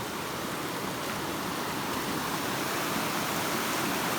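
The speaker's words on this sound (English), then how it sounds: "I love this sound of water." Water flows along a mountain trail, giving a continuous, even rush of broadband noise that is loud and close and steady throughout, with no talk.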